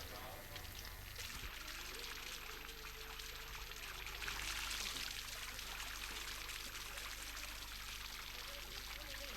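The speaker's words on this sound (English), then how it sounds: "It is run by the water wheel, which is rotated by falling water from a height" Steady rushing and splashing water falls from a height onto a water wheel at a monastery, pouring continuously nearby, a dense hiss that swells slightly midway with no pauses.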